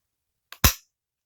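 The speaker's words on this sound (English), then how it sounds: "It fires." A single sharp gunshot from a gun being function-tested, a faint click just before the loud, close crack, then silence.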